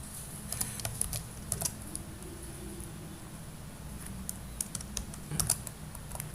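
Java code is typed on a computer keyboard in quick uneven bursts of crisp key clicks, close and clear over a faint low background hum, with no talking.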